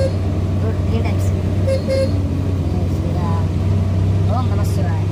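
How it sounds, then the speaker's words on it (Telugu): Car horn honking near a temple, short toots cutting through steady engine rumble of a moving vehicle, with voices talking nearby. "ये वो टेंपल के पास हॉर्न मारो"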